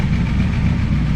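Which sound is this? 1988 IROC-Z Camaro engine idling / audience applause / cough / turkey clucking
1988 IROC-Z Camaro engine idling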